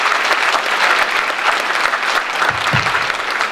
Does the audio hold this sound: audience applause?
yes